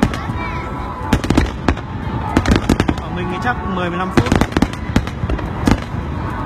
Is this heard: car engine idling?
no